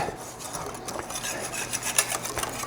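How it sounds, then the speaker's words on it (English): A whisk scrapes and rubs through a batter of flour and baking powder in a bowl, a steady close rasping stir with no talk. "and the baking powder and just whisk that in"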